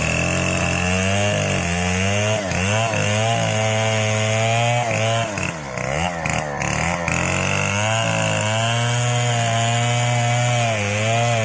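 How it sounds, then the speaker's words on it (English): Chainsaw cutting down a large tree deep in a forest, its engine roaring loud and close in a steady high-pitched whine that dips and bogs briefly midway as the chain bites, then climbs back to full throttle. "a worker used a chainsaw to cut down a large tree"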